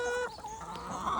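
Pet chickens cluck softly and briefly, close by, as they peck at strawberries.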